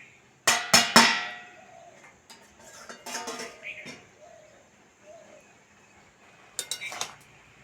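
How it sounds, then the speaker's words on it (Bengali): A metal lid lifted off a pot of cabbage boiled for twenty minutes, sharp clanks and clinks of metal on metal, a few loud knocks early, softer rattles in the middle and another cluster of clinks near the end. "ঢাকা খুলে দেখে নেবো সিদ্ধ হয়েছে কিনা।"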